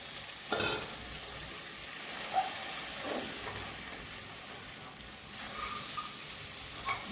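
Okra and potatoes fry in a pan for a dry bhindi aloo sabji, a steady close sizzle broken by occasional scrapes and clinks of a spoon stirring, with no talking.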